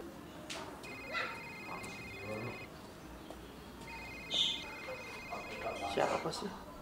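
A telephone rings twice in a comedic Indonesian home scene, each burst a bright electronic trill lasting a couple of seconds, heard at moderate loudness with brief background voices and movement between rings.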